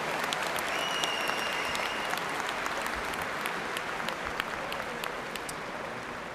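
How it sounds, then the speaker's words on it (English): A large crowd applauds steadily at a 2019 university spring commencement ceremony, a dense wash of clapping heard from a distance with a few louder claps standing out. "how about a big round of applause for Professor John Strada"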